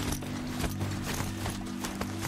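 Horse hooves clip-clopping at a steady trot in Horizon Zero Dawn, close and clear over a constant low game hum, with no talk over it.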